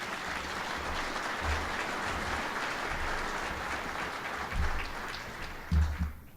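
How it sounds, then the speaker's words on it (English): A roundtable plenary audience applauds continuously, a dense steady wash of many hands clapping in a large room, swelling briefly near the end before fading out. "Round of applause for Don."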